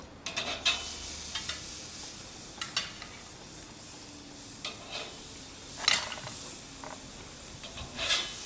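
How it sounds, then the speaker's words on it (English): Burger patties sizzle on a barbecue grill over a fire of about 400 degrees, giving a steady, low hiss broken by a few light metallic clinks and scrapes of tools. No one speaks. "We're going to go ahead and put our patties on there."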